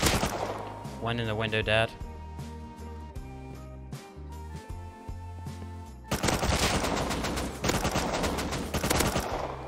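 Gunfire in Rust from a pump shotgun firing slugs and an AK, sharp close bursts and rapid shots clustered in the later half, with a voice speaking over earlier quieter moments.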